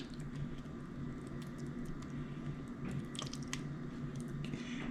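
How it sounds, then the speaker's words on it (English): Green sauce is added to seared oxtail in a pressure cooker, making soft wet squishes, drips and patters over a low steady background hum, with no voices. "we're gonna add a little more of the green sauce that we used earlier"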